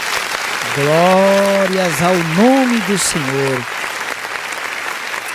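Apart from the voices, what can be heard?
congregation applauding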